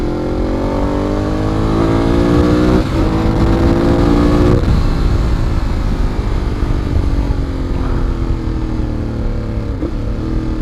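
A 2014 Ducati Monster 821 motorcycle runs through its stock exhaust in a steady, loud engine drone while riding, with the pitch rising and dipping through gear changes. It is close and continuous.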